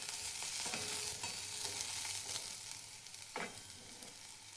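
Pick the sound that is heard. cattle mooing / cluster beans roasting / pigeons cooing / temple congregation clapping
cluster beans roasting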